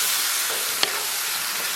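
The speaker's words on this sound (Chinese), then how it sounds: "再次给它简单煸炒一下" Potato chunks are stir-fried in a wok with tomato paste, Sichuan pepper powder, star anise powder and chicken bouillon, giving a steady close sizzle with a single sharp clack of the spatula partway through.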